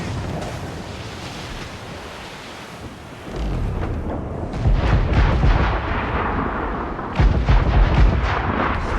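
Ship cannons fire in the pirate naval-combat game Assassin's Creed Black Flag: after a wind-and-sea ambience, a loud booming volley erupts and rolls on as sustained rumbling, with further heavy blasts near the end.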